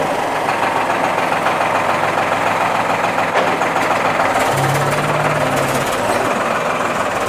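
A tractor pushes cow dung out on a dairy farm, its heavy diesel engine chugging loudly and continuously nearby, with a brief rising mechanical whine near the end.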